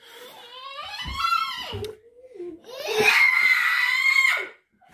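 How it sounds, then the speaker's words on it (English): Child screaming shrilly during a pillow fight, two loud piercing bursts, the second long and sustained, with brief breathy sounds between them. "Screaming like a banshee there."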